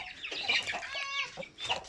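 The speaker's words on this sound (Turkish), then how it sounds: "Tavuklar, ufak horozlar, civcivler." Aseel chickens, small roosters and chicks clucking and squawking close by, several birds calling in quick, overlapping bursts with a higher rooster-like cry in the middle.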